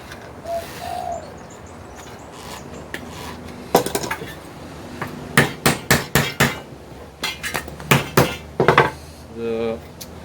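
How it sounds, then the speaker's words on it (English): A hammer flattens metal in a series of about a dozen sharp, close strikes that speed into a rough rhythm over the second half, with faint bird cooing in the background beforehand. "a good hammer, and you flatten it out again"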